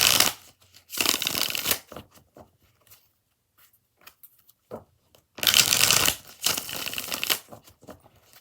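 Tarot cards are shuffled by hand in two crisp bursts of rapid riffling, close and fairly loud, with scattered small taps and handling clicks in the quiet gap between them.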